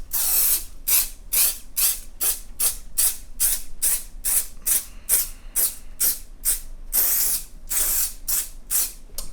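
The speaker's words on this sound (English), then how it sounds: "Okay, so we've got the accelerant sprayed." CA glue accelerant is sprayed onto abalone trim on a guitar in short, close aerosol hisses, about twenty quick bursts in a steady rhythm.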